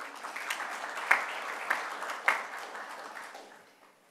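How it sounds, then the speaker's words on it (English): A conference audience claps for a speaker just introduced. The clapping is moderate and scattered, with a few sharper claps standing out, and it tapers off toward the end. "A round of applause"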